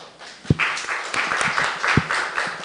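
Brief round of clapping from students in a lecture class, a few distinct near claps over a soft patter, short and fairly loud.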